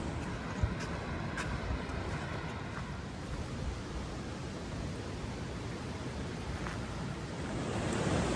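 Rush Creek water rushing steadily at a trail crossing on the Pacific Crest Trail near Yosemite, a broad continuous wash of flowing water, close and even throughout, with no talking.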